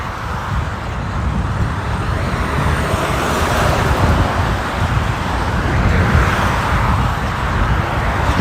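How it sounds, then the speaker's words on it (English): A heavy truck rolls across an expansion break on a highway bridge, a loud, steady roar of tyres and engine with rumbling road noise and wind over several seconds, close by. "you get a trucker going over that, and it's so loud"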